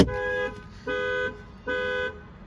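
The alarm on a 2020 Renault Captur sounds after a door is opened, giving loud, steady electronic tones that switch on and off in a repeating pattern about every 0.8 seconds.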